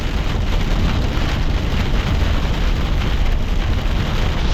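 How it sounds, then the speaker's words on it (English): Heavy Florida afternoon rain pours down on a road during a drive, a dense, loud, unbroken hiss and roar that holds steady throughout with no voices. "Florida rain."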